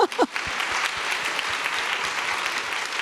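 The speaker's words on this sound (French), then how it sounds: "On peut l'applaudir." Conference attendees at a roundtable applaud a speaker, a brief burst of noise at the start giving way to sustained, even clapping from the room.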